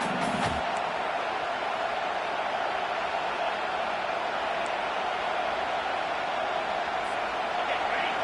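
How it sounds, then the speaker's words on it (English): Crowd roaring at an Ole Miss vs Texas college football game, a dense, constant wall of stadium noise sustained at full volume throughout, with a brief thump near the start. "The roar of the crowd trying to fuel this defense to keep them pinned in their own end."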